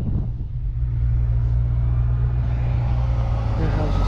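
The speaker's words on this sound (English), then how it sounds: "Oh shit, trash truck about to tear my shit up." A garbage truck passes on a residential road with a loud, steady low rumble that swells and holds close by.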